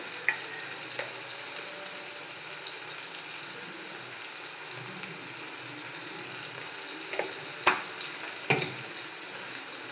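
Vegetables fry with salt in a pan, a dense, even sizzle running throughout as they wilt, with a few faint clicks and scrapes from stirring; close and continuous, no speech.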